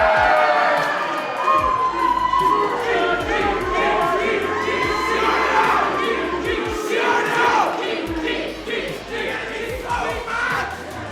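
A wrestling crowd at a Slamfest event roars and cheers for Gene Money, a dense, loud wall of shouting voices with rising chants and yells that stays steady throughout.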